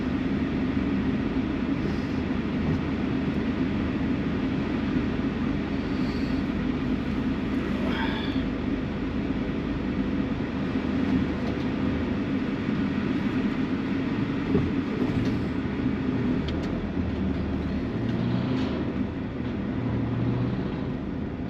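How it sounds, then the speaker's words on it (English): A V8 Scania truck pulling a tanker rumbles steadily with a low, continuous drone through the whole stretch, heard from a vehicle following close behind on a road in Greece. "That's got to be a V8 Scania with that tanker on by the sound of it."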